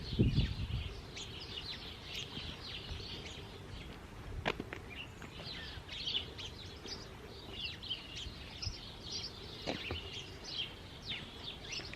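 Birds chirp and twitter in quick, scattered bursts from trees coming into pink bloom, fairly faint and a little distant over a soft outdoor background with occasional light knocks.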